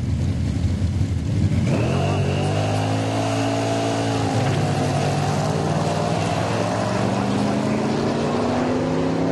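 A steel-bodied 1926 Ford Model T drag car roars down the strip at a drag week event at Heartland Park in Topeka, Kansas, its engine loud and sustained, climbing in pitch as it accelerates.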